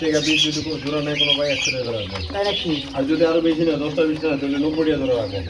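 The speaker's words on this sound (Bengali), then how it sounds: "কুয়েল পাখি রয়েছে" A busy chorus of clucking chickens and calling quail at a farm, loud and close, with constant overlapping chatter.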